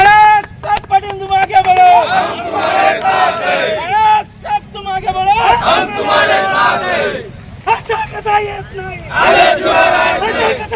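A crowd cheers and shouts in loud, overlapping bursts at an outdoor political victory celebration for party office-bearers after a cotton marketing federation election win, with voices rising and falling throughout.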